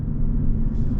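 The diesel engine of a 2024 GMC Sierra AT4X truck gives a low, steady rumble heard from inside the cab, constant and moderately loud over a brief moment with no talk.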